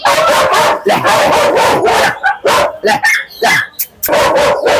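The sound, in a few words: German Shepherd dog barking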